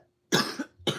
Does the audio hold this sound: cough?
yes